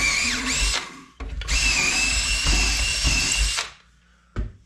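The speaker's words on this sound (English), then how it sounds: "You want to take the 5/16 drill bit on your drill and drill out that abrasive." A power drill with a 5/16 bit whirs loudly and close up in two long runs with a brief pause between, drilling out abrasive during a Super 7 floor edger rebuild, then stops and gives one short final burst.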